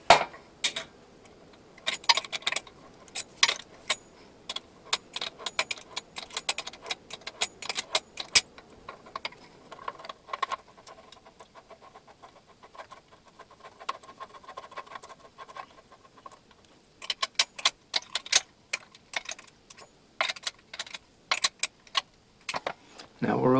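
A small wrench works the bolts on a cheap standing desk, making bursts of quick metallic clinks and rattles separated by quieter pauses, close and crisp.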